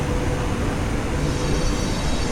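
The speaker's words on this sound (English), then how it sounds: "Oh, there's our train." A sleek high-speed train pulls in at a station platform in China, a loud continuous rumble and rush of air that holds steady throughout.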